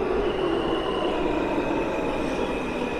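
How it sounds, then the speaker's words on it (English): A Manhattan-bound F subway train in a Brooklyn station produces a steady, loud rumbling roar for three seconds, with a faint high wheel whine running through it and no talk. "There's a Manhattan-bound F train on the other side."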